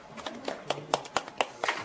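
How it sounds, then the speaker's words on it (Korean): A short run of about eight crisp hand claps at a steady, quick rhythm, fairly close and moderately quiet, from a group clapping at a live broadcast event. "이제 박수로 치고"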